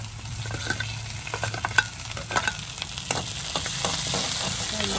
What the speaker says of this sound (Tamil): இதை உள்ளியையும் பச்சை மிளகாயும் போடுவோம். கொஞ்சம் அதங்கட்டும்.